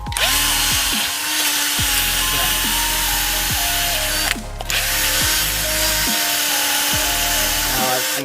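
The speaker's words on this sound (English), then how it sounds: "Grab your wire brush. Right in these grooves here. You want to clean those up real good." Wire brush scrubbing the grooves of a wheel bearing hub on a 2004-2009 Nissan Quest during a front wheel bearing replacement, a loud continuous abrasive rasp with a short pause midway.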